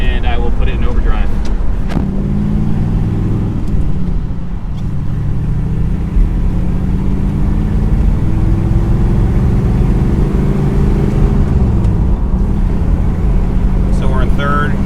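A 1954 Ford Crestline with a manual gearbox and overdrive drones steadily on the road while someone talks over it. Its engine pitch steps and settles several times as it shifts through the gears.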